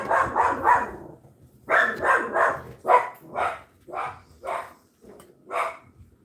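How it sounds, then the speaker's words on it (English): A dog barks at a mail delivery at the door, a burst of rapid barks followed by a string of evenly spaced single barks, close and loud, with no talking. "The mailman brought me a package, and the dog thinks, oh my gosh, we're gonna die."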